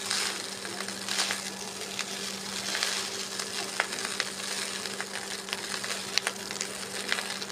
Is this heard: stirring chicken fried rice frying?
yes